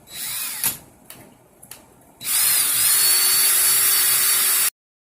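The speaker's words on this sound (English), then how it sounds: "So I'm going to get the 34 in my drill, get my drill in the clockwise rotation," Power drill spinning to twist 34 gauge wire into a Clapton coil: a few short bursts and light handling at first, then a loud, steady whirring run for about two and a half seconds before stopping abruptly.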